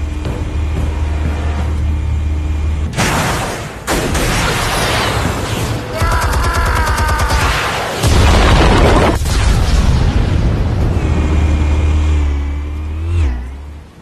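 Explosives detonate in the video game Batman: The Telltale Series as loud, close booming blasts, two heavy bursts landing several seconds apart amid rumbling game effects and tonal sound, with no voices over them.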